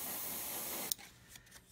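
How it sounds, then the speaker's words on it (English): An airbrush sprays paint onto a 1/35 scale Meng Mk.A Whippet model tank, a close, steady hiss that cuts off abruptly partway through, leaving quiet room noise and a few faint clicks. "I'm just going to put this post-it note here and spray in there"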